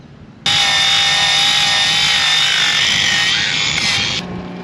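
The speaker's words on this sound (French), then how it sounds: "Après donc un polissage au grain 80, c'est ce que préconise la doc." A power sander with 80 grit runs on a fibreglass boat hull, a loud steady whine starting abruptly and holding for about four seconds before easing off.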